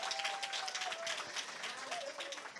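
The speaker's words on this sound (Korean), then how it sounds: "여러분 박수 한번 부탁드려요" Audience applause at a Korean corporate event in Sydney, broad steady clapping from a crowd lasting the whole stretch, moderately loud with a faint voice line running under it.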